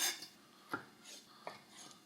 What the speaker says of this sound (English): I'm going to be cutting them into some wedge shapes